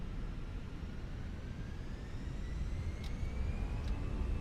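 Airliner engines in a flight simulator game with Bristol scenery, a steady broadband roar that swells gradually louder over the seconds, with no talking.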